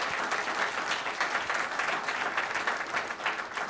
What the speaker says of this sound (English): big round of applause to Eric.